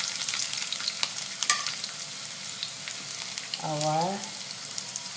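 Red onion sizzling as it hits a hot pan of oil for spicy sarlog, a steady close crackle of frying under a woman's brief speech and a few stirring clinks.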